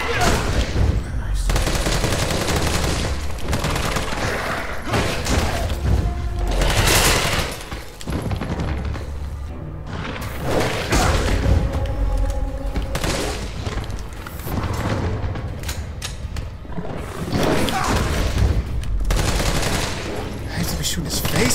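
Weapon fire in Resident Evil 3 Remake on hardcore difficulty, repeated loud shots and heavy bursts with booming impacts, continuous over about twenty seconds, with faint talk underneath.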